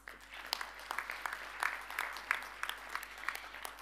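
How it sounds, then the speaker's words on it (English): Faint, distant applause from a university graduation ceremony audience, a thin patter of scattered claps with a low steady hum underneath. "A big round of applause."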